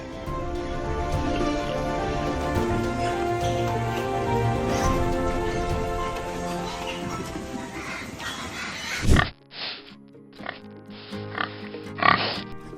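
Black pigs on a farm in China grunt and oink among a dense, layered din that runs steadily for about nine seconds, then breaks off into a few short, separate bursts.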